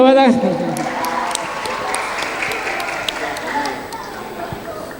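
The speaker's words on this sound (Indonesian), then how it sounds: "Tepuk tangan." A crowd claps and applauds steadily for several seconds, a broad dense patter with some voices mixed in.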